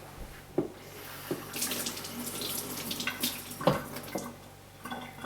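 Tap water running into a kitchen sink while peppers are rinsed, a steady soft splashing stream with a few knocks and clatters of handling, close and moderately quiet.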